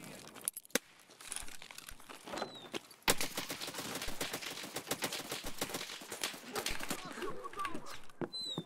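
MCX rifle gunfire in a raid-style shooter game, quick sharp bursts of shots, some distant and some close, among rustling and clattering noises with occasional voices.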